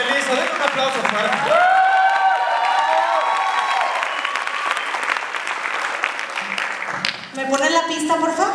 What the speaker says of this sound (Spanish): Denle un aplauso fuera.